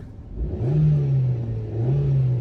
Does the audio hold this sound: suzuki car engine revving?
yes